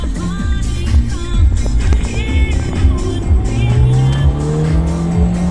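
A Mitsubishi Evo engine roars steadily while driving, with rising and falling revs and road noise, loud and close, no talking.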